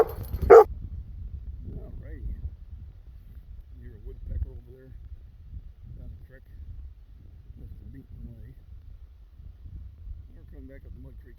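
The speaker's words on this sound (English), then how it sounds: "Jealous little puppy dogs, aren't you?" Jealous little puppies on a farm give one sharp bark near the start, then faint whimpers and soft yips under a man's steady, affectionate talk.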